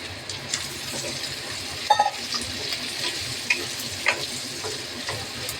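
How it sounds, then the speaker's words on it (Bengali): Chopped onion, capsicum and green chili frying in oil, a close, continuous sizzle broken by a few clicks and scrapes of stirring, with no talking. "এবার আমি এই তেলের মধ্যে দিয়ে দিলাম পেঁয়াজ কুচি, ক্যাপসিকাম আর কাঁচা লঙ্কা কুচি"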